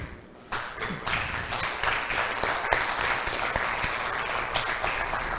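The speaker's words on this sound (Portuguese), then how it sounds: "Peço uma salva de palmas para ele." Applause for Professor Pablo Benetti at an architecture seminar, a burst of clapping that starts suddenly after a quiet moment, with individual sharp claps standing out from the dense patter.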